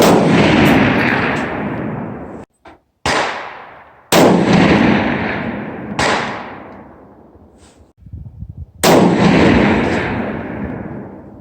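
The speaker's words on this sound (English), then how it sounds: "I'm at the Lynchburg and we're shooting at 300 yards." Rifle shots on an outdoor range firing at targets 300 yards away, four loud, sharp cracks, each trailing into a long rolling echo, spaced a few seconds apart with quiet handling noises between them.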